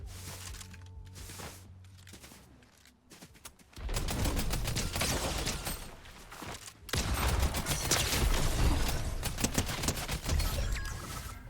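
Gunfire from a Fortnite match rings out as a dense, loud burst of rapid shots and clatter, preceded by quieter mechanical clicks and a brief lull before the heavy firing.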